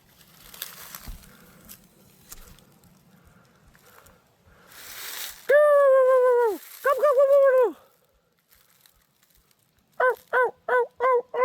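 Loud wild turkey calls ring out: two long wavering calls, then a rapid run of five short gobbling notes, with rustling and quiet background before, during a bow hunt.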